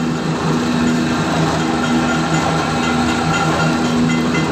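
An automatic mustard oil pressing machine runs with a steady, continuous mechanical drone and a constant low hum, close and unchanging throughout.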